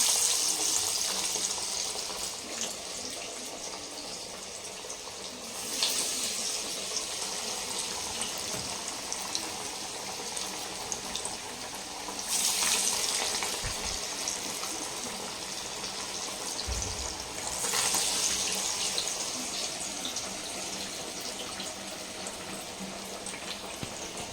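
Masala vada fry in hot oil, a continuous loud bubbling and hissing that swells several times as fresh batter goes in, close and unbroken throughout.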